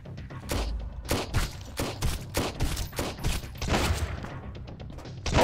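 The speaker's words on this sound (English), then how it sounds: "They have a fucking shotgun, it's getting dark" Enemy pirates fire shotguns in the survival game Sunkenland. Loud, close shots come in a rapid irregular volley, more than a dozen sharp bursts with booming low ends, and one final blast lands at the end.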